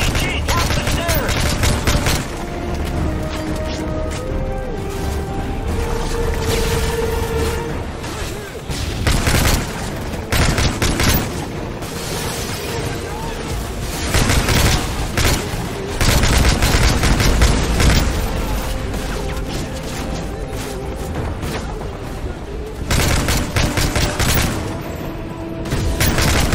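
Dense, continuous gunfire and explosions in Call of Duty Modern Warfare 3 during a courtyard firefight in France, with automatic bursts, booms and shouted voices throughout, loud and unrelenting for the whole stretch.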